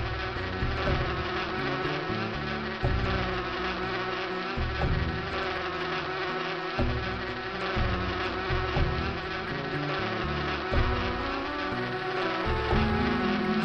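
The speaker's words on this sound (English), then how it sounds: "Hooray! Bees! And unless I miss my guess, those are definitely honeybees." Honeybees buzz in the video game Inherit the Earth, a loud, continuous insect drone with wavering pitch that swells and dips throughout, heard alone.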